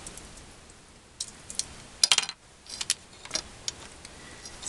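Watercolor paper being cut on a cutting board: a few short, sharp scraping and crisp slicing bursts with quiet pauses between them, close and fairly faint in a quiet room.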